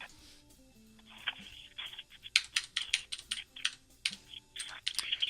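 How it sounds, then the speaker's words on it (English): Typing on a computer keyboard: close, irregular bursts of crisp keystroke clicks with brief pauses, clearer and busier in the second half, with no talking. "Let me type some and I'll let you know."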